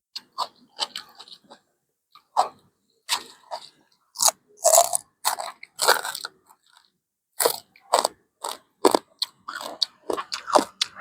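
Crunchy roasted field rat is eaten with a spicy cucumber salad, producing loud, close bites and crunching chews in irregular bursts separated by short pauses, with no talking.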